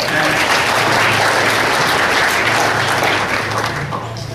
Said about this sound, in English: Applause for Chris